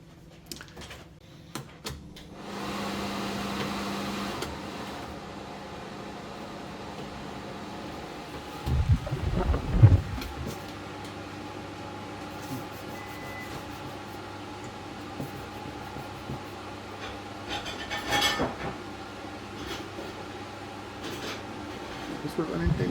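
Vacmaster vacuum blowing air straight into the microphone, a loud rushing burst of a second or so near the middle, with a steady low motor hum and a few knocks around it.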